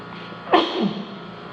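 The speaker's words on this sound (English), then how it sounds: "I'm about to sneeze." A single sharp sneeze bursts out midway, close and loud, then fades quickly against a quiet background.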